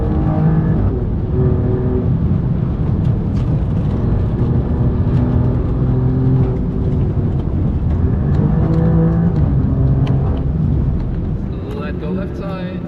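Alfa Romeo Giulia Quadrifoglio on the Nurburgring, its engine droning loud and steady as it accelerates through corners, with a voice talking over it throughout.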